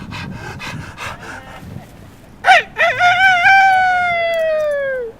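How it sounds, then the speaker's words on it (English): A rooster in a children's TV show lets out a long, loud crow that rises sharply and then tapers off slowly, following a stretch of rough rubbing and scraping sounds. "I'm going to take deep breaths and give them a good crow."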